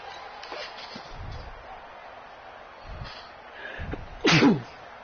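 A single sharp sneeze bursts out loudly in a football broadcast booth, over a low murmur of crowd noise and faint background voices.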